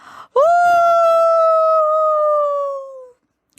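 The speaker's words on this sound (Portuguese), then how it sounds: "o lobo que ouviam uivar na montanha" A single long, clear howl rises sharply, then holds a steady wavering tone for nearly three seconds before fading, loud and close, with nothing else around it.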